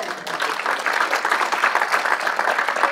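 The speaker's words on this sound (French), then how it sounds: "On peut l'applaudir." Church congregation applauding together in a steady, dense wash of clapping that fills the room for a few seconds, with no voices over it.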